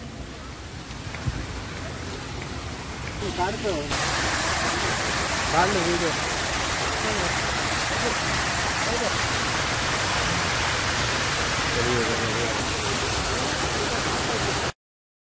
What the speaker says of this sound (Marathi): धबधबा आहे.